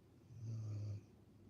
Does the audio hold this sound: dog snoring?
yes